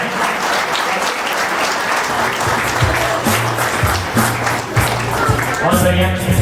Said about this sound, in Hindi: बहुत बढ़िया तालियां हो जाए।